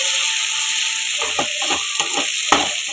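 Tomatoes sizzle in hot oil in a pan, a steady loud frying hiss with several sharp spatters and stirring clatters bursting through in the second half.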